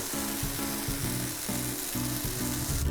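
Chocolate chip pancake batter sizzles on a hot pan in a steady, loud crackling hiss, with a rhythmic low clatter running underneath throughout.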